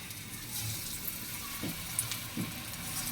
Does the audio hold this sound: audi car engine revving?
no